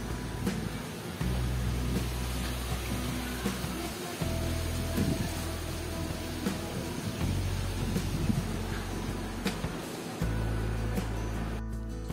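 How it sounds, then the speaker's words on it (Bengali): A storm rages outside a window, with strong wind roaring in low rumbling gusts and a steady rushing wash, loud and continuous with no voices. "জানলা দিয়ে কি দারুণ বাইরে ঝড় উঠেছে"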